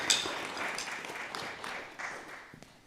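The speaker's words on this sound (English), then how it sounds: "Let's give another round of applause for Bryce Bach" Audience applause for a performer at a historical band ensemble showcase, a sustained wash of many hands clapping at moderate distance, fading gradually toward the end.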